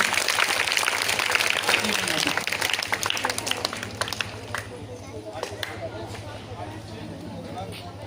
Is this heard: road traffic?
no